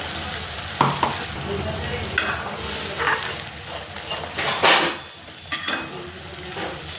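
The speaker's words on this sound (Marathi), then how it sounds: "आता बघा हे चांगलं बारीक गॅस करून मस्त तळू द्यायचं मस्त" Onion-tomato paste for a paneer curry frying on a low gas flame, a steady close sizzle with a few louder stirring scrapes and bursts throughout, no talking.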